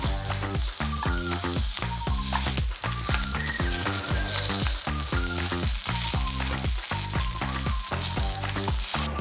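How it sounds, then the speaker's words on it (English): Sausage links fry in a hot pan with a steady, continuous sizzle that sits under loud background music throughout. "we're gonna fry these sausages"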